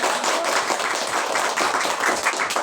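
Students in a classroom clap their hands together, a close, dense burst of applause lasting a few seconds with no talking over it.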